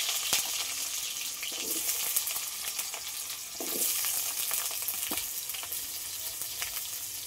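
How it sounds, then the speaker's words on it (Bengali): Chopped vegetables and potato frying in a pan with oil, a continuous close sizzle with occasional stirring scrapes and bubbling bursts throughout. "এবার এই যে সবজিগুলো কেটে রেখেছি, এইগুলো এবার সব ভেজে নেব। আলুটা ভেজে নেব।"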